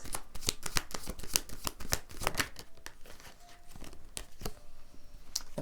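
Tarot cards are shuffled in quick rapid riffles and flicks, close and crisp, with a steady run of papery snaps and slides.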